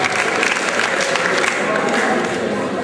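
Audience applause at a local sports merit awards ceremony, a loud, dense burst of clapping from a crowd filling the room.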